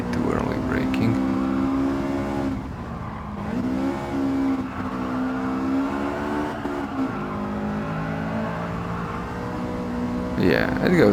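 A Honda S2000 engine roars in the Gran Turismo 7 racing game, a steady, loud high-revving tone that dips and climbs through shifts, with someone talking over it.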